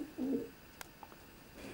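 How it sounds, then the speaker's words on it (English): Racing pigeons coo softly inside a loft section of nest boxes, a faint low coo followed by a few small clicks and rustles against quiet room noise. "It contains 12 nest boxes, and these pigeons are just chipping out."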